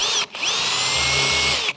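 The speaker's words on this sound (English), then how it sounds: "use a slightly smaller drill bit" A power drill runs a bit through an aluminium boat motor mount, giving a loud, close, high whine that stops briefly near the start and then holds steady before cutting off.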